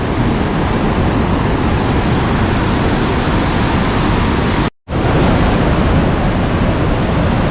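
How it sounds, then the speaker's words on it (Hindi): A fast river current crashes against rocks in a steady, loud roar of rushing water that cuts out for a moment and then returns just as strong. "तो भाई पानी का करंट बहुत तेज़ है यहाँ पे। इतना तेज़ है कि धुआं सा निकल रहा है पत्थर में टकरा के।"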